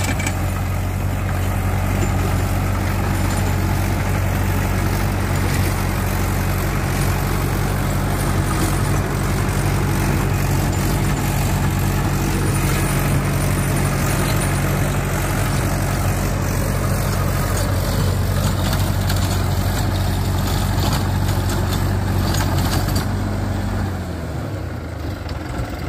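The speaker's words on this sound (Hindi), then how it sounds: "ट्रैक्टर चल पड़ा है।" A Mahindra 575 DI XP Plus tractor pulling a 7 ft rotavator runs steadily and loudly up close, a heavy low diesel drone with constant mechanical clatter, easing off near the end.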